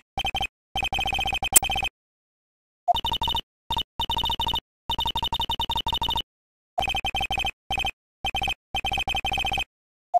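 A phone ringtone in the video game Phoenix Wright: Ace Attorney plays as rapid, buzzy electronic bursts in clipped groups separated by silent gaps, loud and close, with no talking.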